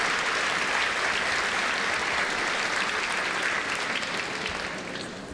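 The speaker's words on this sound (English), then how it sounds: "let's give them another round of applause" An audience at a school Grandparents and Special Friends Day event gives a dense, sustained round of applause, loud and even throughout before tapering slightly at the end, with no talk over it.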